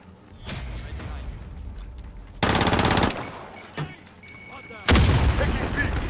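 Gunfire from Modern Warfare multiplayer on the Hovec Sawmill map comes in loud automatic bursts with sharp single shots and booms between them, while voices call out over the action.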